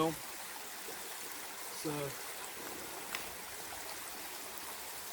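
A backpacking creek in Kentucky's Red River Gorge trickles steadily in the background, a constant wash of running water with brief splashes, while someone speaks briefly over it.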